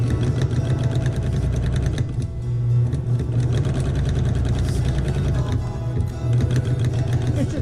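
Sewing machine stitching in the ditch along a quilted table runner, a loud, continuous rapid mechanical whirr and needle chatter with one short slowdown, close to the microphone.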